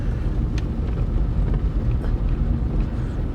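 Renault Twingo 3 engine driving on an icy road, a loud, continuous low rumble with steady road and wind noise, close to the microphone, engine strained as it accelerates.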